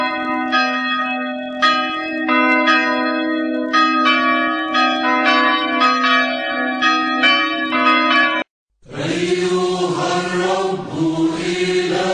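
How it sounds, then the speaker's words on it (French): Copper church bells ring out in a call to prayer and Mass, with sustained overlapping tolls. A short pause near the end gives way to a denser, brighter peal. "Les fidèles sonnaient des cloches de cuivre pour appeler à la prière et à la Sainte Messe."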